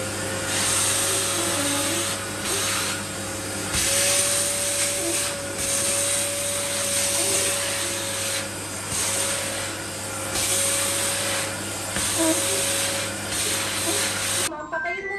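A wet and dry vacuum cleaner runs steadily at close range with a loud, constant whine and hiss, its pitch wavering slightly, before cutting off at the end.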